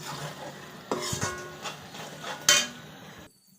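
Spice masala fries in oil in a pan while a spoon scrapes and knocks against the metal, producing a steady sizzle broken by several sharp clanks, then falling quiet at the end.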